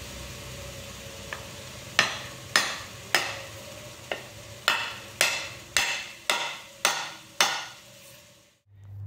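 Repeated sharp knocks and strokes while fitting a new handle onto a vintage axe head, about ten evenly spaced close impacts with short decaying tails, followed by a brief quiet gap and a low rumble at the end.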